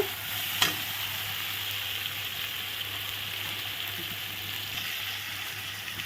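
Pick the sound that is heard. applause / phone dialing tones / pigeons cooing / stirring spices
stirring spices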